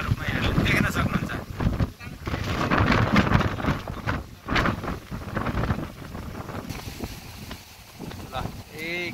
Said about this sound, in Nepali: यहाँ मान्छे उडा जसरी चाहिँ हावा आइरहेछ